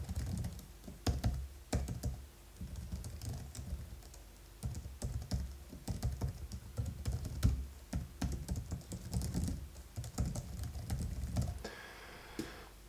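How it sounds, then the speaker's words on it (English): Steady typing on a Logitech MX Keys wireless low-profile keyboard, close and clear, with quick irregular key clicks and short pauses, then a brief rustle at the end. "so let's see the typing experience."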